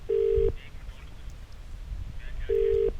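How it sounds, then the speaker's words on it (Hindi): An outgoing phone call's ringback tone sounds twice, each a short steady beep of under half a second, about two seconds apart, over faint background noise. "घंटी भी जा रही है, अगर फोन उठाएंगे तो उनसे बातचीत करेंगे"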